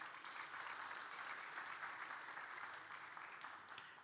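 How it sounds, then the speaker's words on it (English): Audience at a renewable energy investment forum applauding the panelists, a sustained, even round of clapping for about four seconds that tapers slightly at the end, with no speech over it. "I do want to ask for a big round of applause for my panelists."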